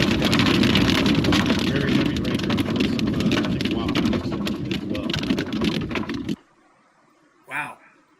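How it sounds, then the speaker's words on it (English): Heavy rain pours down during a storm chase, a loud dense hiss with rumbling road or vehicle noise that cuts off abruptly, followed by a brief voice in near silence. "You can see and hear the rain on Cody's screen as it really intensified there."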